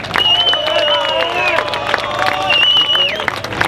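Outdoor demonstration crowd on Wenceslas Square in Prague applauding and cheering, a loud, dense burst of clapping with shouts and whistles mixed in, steady across the few seconds.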